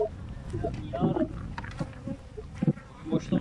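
Many honeybees buzz close by in a thick, droning swarm at an overflowing hive, with people talking quietly under the hum.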